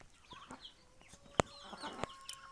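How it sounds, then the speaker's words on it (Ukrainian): Chickens cluck softly with faint chirps from chicks, scattered calls and a brief sharper squawk midway, nearby and fairly quiet. "Кури от маленькі. Курчата."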